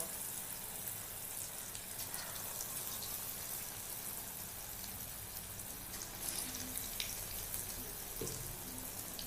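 Karavada batter frying in hot oil: a faint, continuous crackling sizzle with scattered small pops, steady throughout and heard alone.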